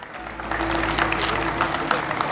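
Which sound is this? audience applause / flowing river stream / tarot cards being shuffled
audience applause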